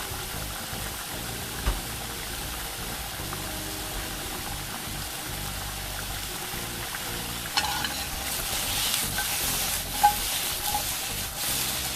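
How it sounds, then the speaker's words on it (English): Peppers frying and charring in a pan, a steady low sizzle close by with occasional knocks and a brief louder crackle burst later on. "those peppers are coming along nicely now. Getting a nice char to them"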